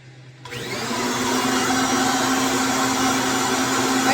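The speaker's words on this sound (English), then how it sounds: "I don't know how loud this is going to be with the hose" A Kirby vacuum cleaner with its hose attached starts up abruptly and settles into a loud, steady roar with a constant hum, running alone without talk.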